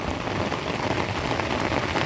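Heavy monsoon rain pours down steadily outdoors near a river where buffalo are kept, a dense, even roar of drops hitting surfaces with no voices and no pauses throughout.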